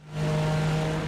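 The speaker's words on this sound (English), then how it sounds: "you see a load of cars just went past me" Race cars roar past in the iRacing sim at Watkins Glen, an IMSA Michelin Pilot Challenge event with GT4 cars such as the BMW M4, as a steady, loud engine drone that swells quickly and holds.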